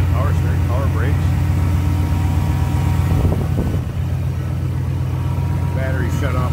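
A 1992 Chevrolet K1500 pickup's 5.7 liter engine idles smoothly and steadily, with someone talking over the low rumble.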